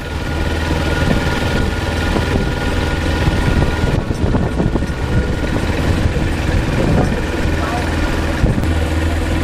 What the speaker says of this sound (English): It's only a very small little motor, but it gets the job done.